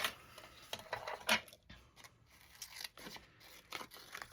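Scissors cut through a small handmade notebook with several short snipping and rustling strokes at an uneven rhythm, close and fairly quiet, with no talk.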